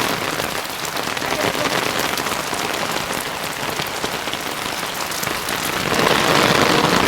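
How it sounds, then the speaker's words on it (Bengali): Rain falls steadily and densely on surfaces close by, a continuous hiss of drops that swells slightly louder near the end, with no voices. "প্রতিদিনই বৃষ্টি হচ্ছে, প্রতিদিনই।"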